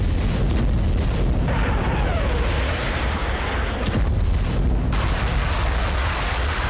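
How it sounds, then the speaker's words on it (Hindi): Explosions from a Russian bombardment of Kyiv rumble as a dense, continuous roar of heavy booms and blasts, loud and sustained with sharp bursts standing out, and no voices over it. "विध्वंसक बमबारी की, जिससे यूक्रेन की राजधानी बुरी तरह से दहल गई"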